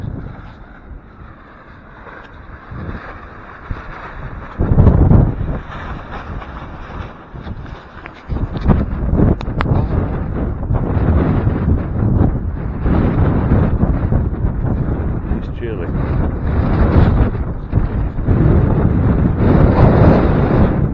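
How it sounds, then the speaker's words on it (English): Strong gusting wind buffets the microphone outdoors at a cattle farm in the early morning, surging and easing in loud, rumbling waves with a sharp gust around five seconds and sustained heavy blasts afterward, with no voices. "The wind kind of is up and down."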